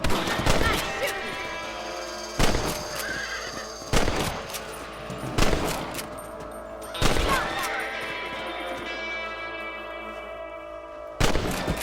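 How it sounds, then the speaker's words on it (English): Gunshots ring out while rabbits are hunted on horseback in the video game Red Dead Redemption, a series of sharp, spaced cracks about every one to two seconds over a ringing, reverberant game soundscape. "Nice shooting."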